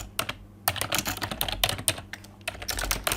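Rapid bursts of typing on a computer keyboard, close and clear, with irregular clusters of keystrokes and short pauses between them, no talking.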